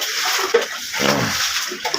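Water being bailed out of a shop flooded knee-deep: sloshing and splashing in steady bursts, close and fairly loud, with no talk.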